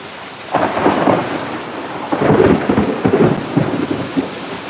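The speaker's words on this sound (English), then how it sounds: "I love storms, and there's a lot of wind with this one." A thunderstorm with heavy rain and strong wind, loud and close, with rumbling thunder swelling over a constant roar of rain and gusts.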